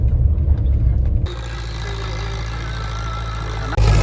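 A tractor engine idles in a farm field, a steady low rumble running throughout with a brief louder burst at the start and end, fairly close and with no talk over it.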